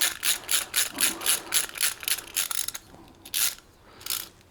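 A bolt threading into a Honda X-ADV 750 foot peg, an aftermarket peg, binding as it cuts its own thread: a quick series of rhythmic ratcheting clicks, then a pause and two further turns, close and fairly quiet.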